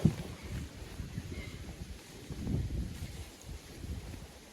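Strong wind blows outdoors at the waterside during a fishing trip, producing a steady low rumbling buffet across the microphone with gusts that swell and fade, and no voices.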